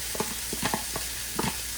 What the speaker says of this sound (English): I can hear it's just starting to sizzle a tiny bit.